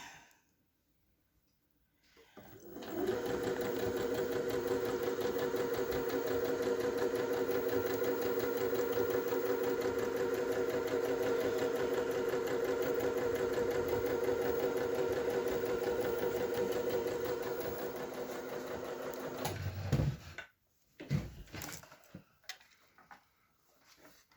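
A sewing machine stitches cheap Amtgard garb in one steady, loud, close mechanical whir that runs for about seventeen seconds, then stops, followed by a few scattered clicks and handling sounds.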